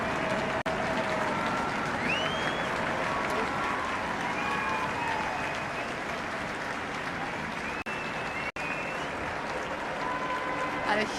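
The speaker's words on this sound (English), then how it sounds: "a huge round of applause from the thousands of people who have gathered here in the Mall" Thousands of people gathered on the Mall applaud after the Red Arrows flypast, a broad, steady wash of distant clapping and crowd noise heard under a commentator's voice.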